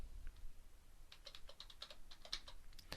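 Rapid keystrokes on a computer keyboard, typing out a short abbreviation: a quick run of close, light clicks with small pauses between bursts.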